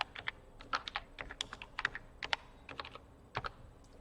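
Fingers type text on a computer keyboard: close, irregular clacking keystrokes with short pauses between bursts, and no talking.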